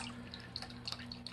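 Water trickles and drips as it fills a homemade fog chiller, a faint, quiet patter of small splashes over a low steady hum, with no talk.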